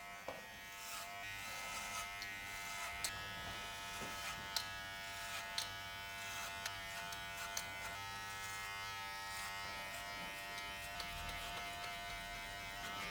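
Electric hair clippers fitted with a number 2 guard hum steadily while cutting hair at the back of the head, faint and continuous, with small clicks and snips as the blades pass through.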